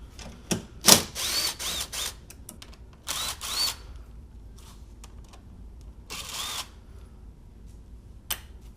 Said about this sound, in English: So we need to remove this 10mm bolt, and then there's two across the front here.